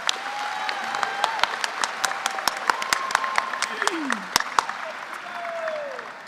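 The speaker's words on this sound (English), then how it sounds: "Let's have a round of applause for these fantastic campus leaders and our alma mater." Audience applause at a new student convocation honoring campus leaders, a steady wash of many hands clapping with sharp individual claps standing out, fairly close and full throughout.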